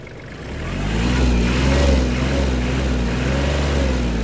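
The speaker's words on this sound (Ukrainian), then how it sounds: "Прекрасно трактор набирає оберти" A Kubota KL-250 mini tractor engine revs up and holds at a raised, steady drone, loud and close, with a slight wavering in pitch.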